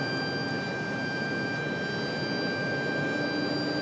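An airliner departs Raleigh-Durham for Orlando with a steady, broadband engine roar and a thin whine on top, holding constant at moderate distance.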